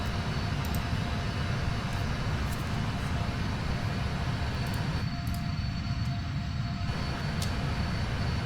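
An aircraft engine in a flight simulator drones steadily and loudly for several seconds, a constant low roar with an even hum on top and no talking.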